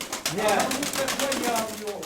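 A pigeon coos close by in a throaty, rolling series of low notes, while people talk nearby.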